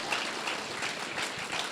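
A church congregation claps together in a brief, fairly faint burst of applause, an even patter of many hands with no voices on top.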